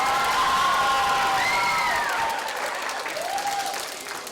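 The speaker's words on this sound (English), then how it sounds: "Give yourselves a round of applause." Middle school students at a book battle competition applaud and cheer after the preliminary rounds, with whoops and shouts over dense clapping that gradually thins out.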